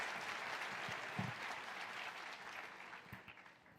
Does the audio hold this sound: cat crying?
no